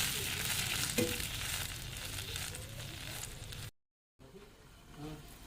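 Kewra water hits hot oil seasoned with panch phoron, setting off a loud, close, crackling sizzle that continues steadily, pauses briefly, and then resumes softer as the bubbling settles.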